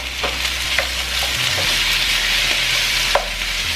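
Beef chunks hit a hot pan and sizzle with a loud, continuous close-up hiss. A few sharp clinks and scrapes of a utensil stand out over a low background hum, and no one speaks.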